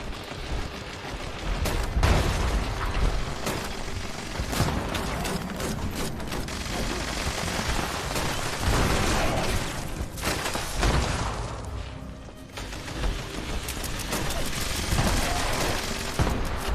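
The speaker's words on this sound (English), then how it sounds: "Here's a fun event with all kinds of chaotic explosions and so forth." Chaotic explosions and bursts of gunfire from a Fallout 76 event pound continuously in a dense, loud barrage, booming thuds and rattling shots overlapping with only brief lulls.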